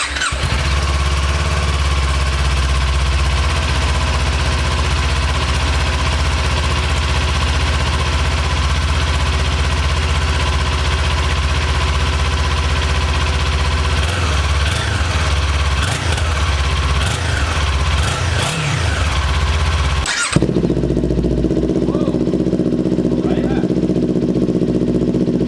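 A Kawasaki Ninja 400 motorcycle fitted with an aftermarket exhaust runs loud and close, idling with a few revs, then drops to a lower, rougher idle near the end.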